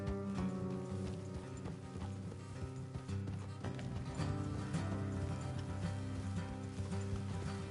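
Horses trotting along a road in the Red Dead Redemption 2 western game, steady hoof clip-clop layered under a continuous musical score, moderately faint throughout.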